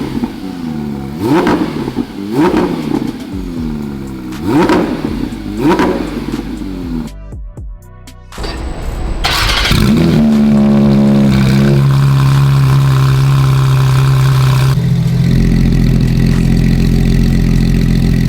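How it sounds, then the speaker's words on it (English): Several cranking attempts, then a Porsche 992 GT3 RS with a full titanium R1 Motorsport exhaust fires up loudly and settles into a deep, throaty idle with a rev partway through, close by. "right now we're gonna do our very first start with the new exhaust system"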